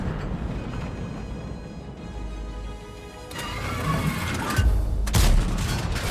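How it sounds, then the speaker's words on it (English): A Vipera tank cannon fires in World of Tanks, with heavy booming shots rising over a steady engine rumble, a couple of loud, close blasts near the end and no talking. "the tank just decided to just shoot randomly"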